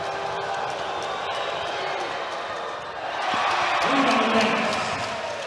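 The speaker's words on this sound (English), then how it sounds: "The crowd applauds themselves there and is affecting that foul shot" An arena crowd at a Singapore Slingers versus Hong Kong Eastern basketball game claps and cheers around a foul shot, a steady wash of noise that swells midway, with a commentator talking over it.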